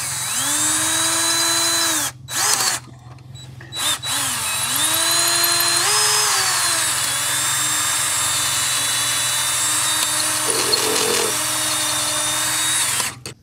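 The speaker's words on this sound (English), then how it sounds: "just drill this hole out a tad" A power drill enlarges a hole in the distributor of a 1966 Plymouth Fury, whining steadily and close, its pitch rising and falling as the bit loads and slips, with brief stops and restarts.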